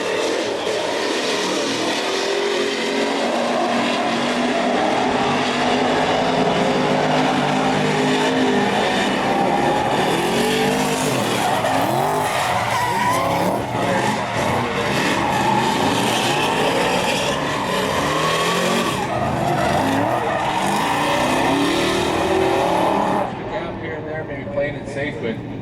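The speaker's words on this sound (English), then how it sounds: "That is a carbureted 358 cubic inch small block Chevy in an" Race car with a carbureted 358 cubic inch small block Chevy in an E36 body, a loud continuous engine roar with rising and falling revs throughout, under commentary, cutting off near the end.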